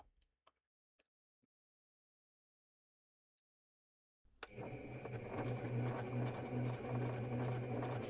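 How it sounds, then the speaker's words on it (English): A sewing machine runs steadily in a quiet blue room in a visual novel game, a continuous mechanical hum with a faint rhythmic tick starting midway after a few soft clicks in near silence. "the blue room is filled with the sounds of the sewing machine in use"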